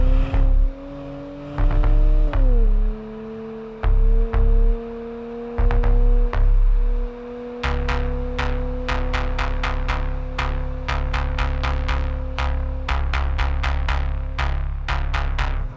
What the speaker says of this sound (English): Let's take this for a drive.